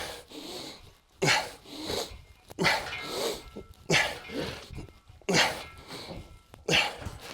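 A dog scratching itself close by: scuffling bursts repeat in a steady rhythm, each roughly a second apart, with quiet breathing in between.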